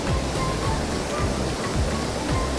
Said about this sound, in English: We've been to the most famous waterfall in all of Iceland.